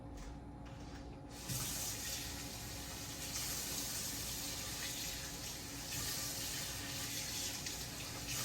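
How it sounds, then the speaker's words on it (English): Water runs steadily from a tap into a bowl, a continuous rushing pour close by that starts after a brief moment and keeps flowing. "Let me get this water in here."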